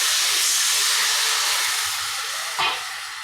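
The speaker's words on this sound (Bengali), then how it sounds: "এবার লঙ্কার হলুদগুলোকে আমি জলে গুলে এটাকে ঢেলে দিচ্ছি।" Turmeric and chili water poured into a hot pan of fried mango pieces, giving a loud, continuous steamy hiss and sizzle that slowly fades, with a brief burst of bubbling near the end.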